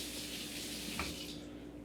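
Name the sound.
rinsing a peeled potato under running water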